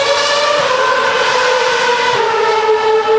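A Renault Formula One car's shrill, buzzing engine whines at a steady high pitch, easing slightly lower as it passes, loud and alone, during Australian Grand Prix qualifying.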